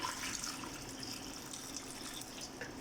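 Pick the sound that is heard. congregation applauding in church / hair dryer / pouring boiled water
pouring boiled water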